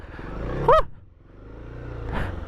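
A small Honda CRF adventure motorcycle engine labors on a snowy mountain, its droning note rising and falling at close range, with a brief high yelp-like sound partway through.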